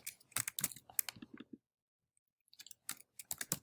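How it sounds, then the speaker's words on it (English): Quiet keystrokes on a computer keyboard come in two short bursts of rapid typing, separated by about a second of silence, close and soft with no talk. "So I'm going to type in"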